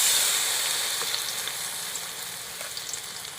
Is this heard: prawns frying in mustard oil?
yes